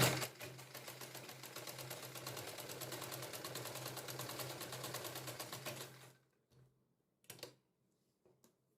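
Sewing machine stitching a collar-neck kurti, running in one steady fast rattle for about six seconds, then stopping, followed by a few short bursts of stitching and quiet handling.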